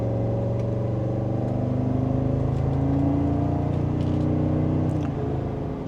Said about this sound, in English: And just a mild acceleration.